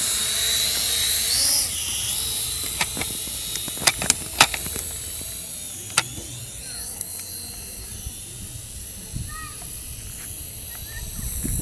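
Cheap toy drone bought from Shopee, its small propellers whirring in a thin high whine for a couple of seconds, then cutting out amid sharp clicks and knocks, with people talking nearby.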